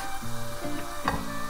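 Butter melting and sizzling in a frying pan on a stove, a steady hiss with a few soft scrapes, close and continuous with no talk.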